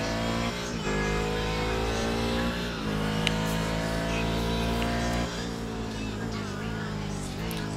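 A Daytona Prototype race car lapping a circuit in preseason testing, its engine droning steadily with harmonic whine and small pitch shifts as it eases through corners, loud and close, with a commentator talking over it.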